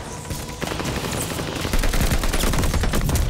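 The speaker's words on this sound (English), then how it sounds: "I'm shooting at them. I'm just not hitting them." Loud, rapid automatic gunfire from Call of Duty: Vanguard rattles in dense bursts that continue without pause for a few seconds.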